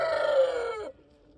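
A rooster crows once, close and loud, inside a coop holding about twenty-two roosters and two hens on a cold morning. The crow holds steady, then drops off sharply near the end, leaving quiet behind.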